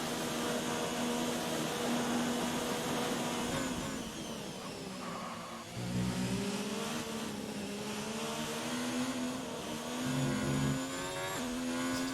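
F1 racing cars in the F1 2019 video game at the Belgian circuit, a continuous high engine whine that rises and drops in pitch through gear changes, fairly quiet and with no talking.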